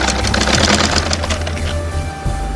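Electric sewing machine running steadily as it stitches a border onto a saree, a close, loud, rapid mechanical whir and clatter that stops briefly near the end and then restarts.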